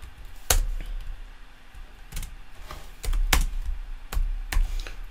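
Someone types code on a computer keyboard, with sharp separate key clicks and a few heavier strokes, spaced irregularly and close to the listener, with no talk.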